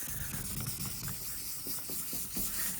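A 1000-grit sandpaper block wet-sands the painted bedside of a rusty GMC Sierra truck, giving a soft, continuous hissing rub with faint rhythmic strokes, close and fairly quiet.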